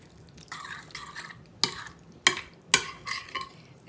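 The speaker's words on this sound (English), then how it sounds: "You want to mix all that up really good" Mayonnaise and sour cream are stirred together in a bowl for an onion casserole: soft, wet squelching strokes broken by a few sharper scrapes of the spoon, close and with no talking.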